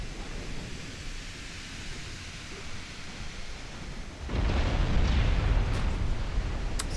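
Torpedo explosion in the naval warship game Ultimate Admiral Dreadnoughts: a deep, loud rumbling blast that starts abruptly partway through and sustains over a steady low roar of ambient sea noise.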